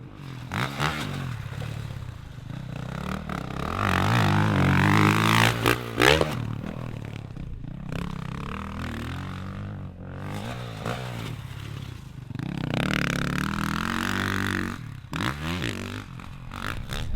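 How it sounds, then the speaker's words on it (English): Honda CRF250RX and CRF450RX dirt bikes on a trail, engines revving and surging in repeated bursts with rough clattering and wind noise, loud and close throughout. "Today we're out here riding the 2025 250RX and 450RX"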